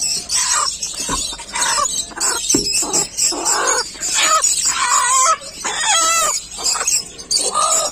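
Chickens let out of a backyard coop where hatchlings are starting to appear, with loud, dense clucking and repeated rooster crowing close by, busy and continuous with no talk.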